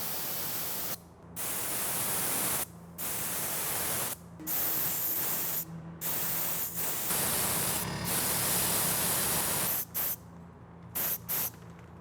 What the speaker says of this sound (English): it sends air through here across this tube, which draws the liquid up this and out the front